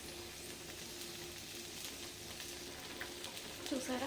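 Okra (bendakaya) frying in a pan, a steady close sizzle that runs throughout, with a brief spoken word over it near the start.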